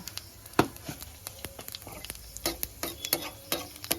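Potato curry with a panch phoron tempering cooks in a pan, with a soft sizzle broken by irregular clinks and scrapes of a stirring spoon close by.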